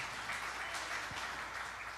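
A church congregation applauding: a steady, dense wash of many hands clapping throughout, moderately loud and even, with no talking over it.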